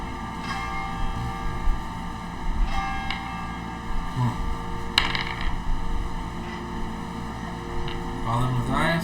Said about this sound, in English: The bell begins to ring.